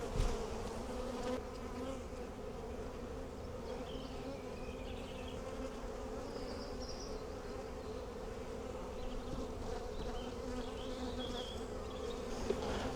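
Honeybees buzzing in an opened hive from breeder queen stock, before any smoke is used: a dense, continuous drone from many bees, steady and close, with no speech.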